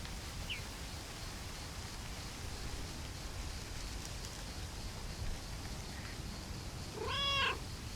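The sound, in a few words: cat meowing in video game Lake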